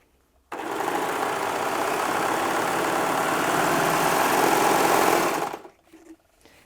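A Baby Lock Desire 3 overlocker runs for about five seconds as it sews medium weight denim. It gives a loud, steady, fast mechanical whirr close up, then stops abruptly, with only a faint rustle afterward.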